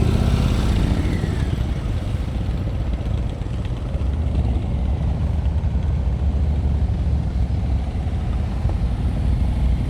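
A motorcycle engine rumbles steadily at low revs during slow speed riding practice outdoors, a loud continuous low drone with slight variations in throttle and no talking.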